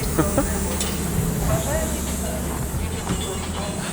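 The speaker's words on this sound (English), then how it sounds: "Check it out, the train station of Yekaterinburg." Busy ambience at Yekaterinburg train station, with a steady hiss and low rumble of trains, and people's voices murmuring in the background.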